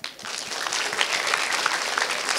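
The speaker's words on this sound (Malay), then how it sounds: "Tepuk tangan." A seminar audience breaks into applause at a motivational talk, a sudden burst of dense, steady clapping that carries on evenly without speech.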